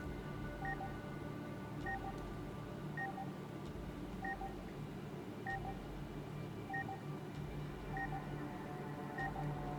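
Phone dialing tones sound in Punishing Gray Raven, a video game: short paired beeps repeat at an even pace, soft and clear over a quiet background hum.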